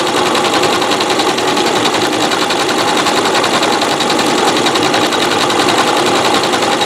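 A sewing machine stitches a decorative pattern on a rope bowl, running in a steady, continuous rapid whir that is close and loud throughout, with no voices.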